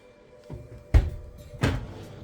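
Two quiet thuds of a large pull-out drawer in a 2023 Forest River Hemisphere 271RL travel trailer sliding out and knocking, about half a second apart, with faint handling noise in a quiet room.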